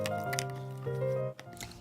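Glossy slime is stirred with an activator of contact solution and bicarbonate of soda, giving soft wet squishes and sticky pops against steady background tones.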